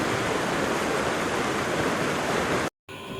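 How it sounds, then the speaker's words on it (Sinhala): Bambarakanda waterfall in Sri Lanka roaring steadily with dense, loud rushing water, briefly cut off near the end before resuming. "අපිට හමුන ලස්සන දියල්ලක් තවත්"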